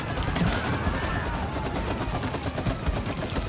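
Rapid gunfire in the co-op video game It Takes Two, a dense continuous crackle of shots lasting throughout, loud and close.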